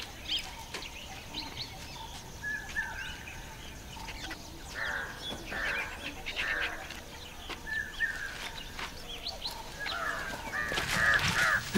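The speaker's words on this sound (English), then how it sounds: "Crows and vultures have a panoramic view over the park." Crows cawing repeatedly around a tiger's kill in a wildlife park, several harsh calls at varying distances over an outdoor ambience, growing louder and busier toward the end.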